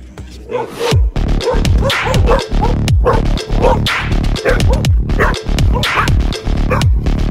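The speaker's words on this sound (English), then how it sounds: "See, dogs again." Several dogs bark loudly and repeatedly at close range, overlapping in a rapid, continuous volley with a few higher yips mixed in.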